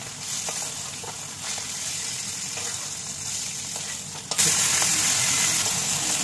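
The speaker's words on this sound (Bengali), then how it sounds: "ইলিশ মাছ সবসময় হালকা করে ভাজতে হবে" Hilsa fish frying in hot oil gives a steady, hissing sizzle that jumps noticeably louder and brighter partway through, continuing alone without any voices.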